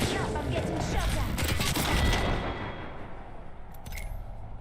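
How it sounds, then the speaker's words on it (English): Dense bursts of rapid gunfire in an Apex Legends match, loud and sustained for a couple of seconds, then dropping to a quieter rattle with a few sharp clicks. "I'm getting shot at."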